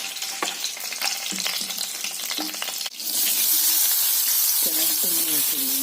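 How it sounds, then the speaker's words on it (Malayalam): Cashews and raisins sizzle and crackle in hot ghee, a steady frying hiss that grows louder midway, with occasional stirring clatter and a brief voice near the end. "നെയ്യ് ഒഴിച്ച് കശുവണ്ടിയും കിസ്മിസും വറുക്കുന്നു."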